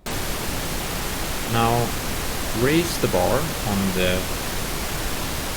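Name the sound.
pink noise played in Bitwig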